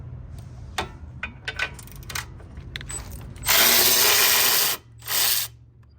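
Wrench working loose a 14 mm sway bar end link nut on a Subaru Forester's front suspension: a string of short ratcheting clicks, then a loud sustained burst of impact-style rattling and a second brief burst, close up with no talk.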